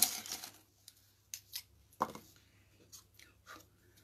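Small snips of sharp scissors fussy-cutting stamped craft paper close around an image, several brief crisp cuts spaced irregularly with quiet gaps, near and alone.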